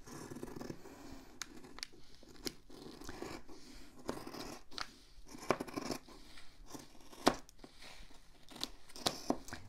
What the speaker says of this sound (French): je n'ai plus qu'à découper autour de ma pièce